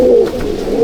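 A pigeon at a loft coos close and loud, one brief low throaty call that fades and rises again.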